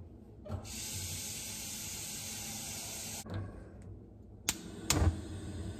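Water runs from a kitchen tap into a cooking pot as a steady hissing stream for a few seconds, stops, then comes in short bursts with clunks of the pot being handled.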